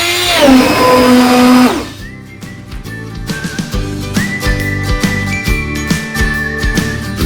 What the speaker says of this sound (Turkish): El blenderıyla püre haline getireceğiz.